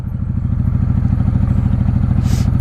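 A 1995 Honda Shadow VLX 600 (VT600CD) V-twin rumbles loudly and steadily in first gear while ridden, its deep rhythmic pulsing exhaust close and continuous.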